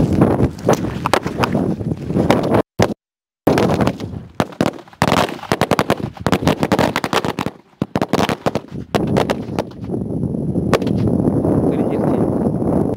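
Rapid bursts of 100 DLX firecrackers going off in a long crackling string, loud sharp pops in quick irregular succession with brief gaps, then a denser roaring stretch near the end.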